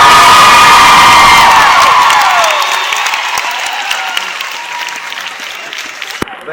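A large crowd at a WeDay 2012 youth event in Montreal screams, cheers and applauds loudly and close, the roar swelling at first and then slowly fading.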